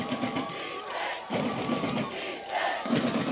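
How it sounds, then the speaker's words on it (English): Football crowd at a Hand vs Derby high school game in 2006 roars in swelling waves, loud and sustained with surging bursts of cheering and shouting filling the stadium. "Crowd getting into it"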